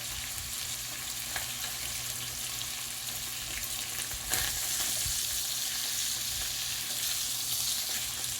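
Hamburger steak and onions fry in a pan, giving a steady, even sizzle that runs throughout with a faint clink partway through and a slight lift in intensity after, with no one talking.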